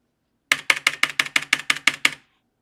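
About ten sharp key clicks in a quick, even run of typing on a computer keyboard, close and alone, with no talk over them.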